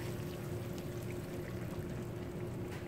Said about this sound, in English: And you just want to pour your soup